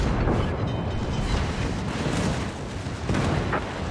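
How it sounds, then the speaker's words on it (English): Main battery salvos from warships in a naval video game boom and rumble in heavy, overlapping bursts, loud and dense throughout, with a second volley near the end. "we're going to have our final salvos traded with each other here in a moment"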